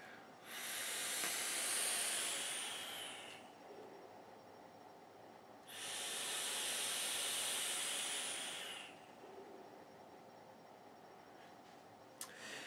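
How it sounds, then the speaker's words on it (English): A vape mod at a 0.13-ohm build produces vapor, heard as two long, steady hissing draws of a few seconds each, separated by a quiet pause, close and fairly soft. "Let's get some more vapor."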